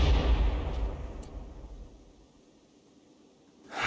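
Mortar fire in the medieval RimWorld game: a deep booming blast at the start that rumbles and fades over a couple of seconds, then another impact rising at the end.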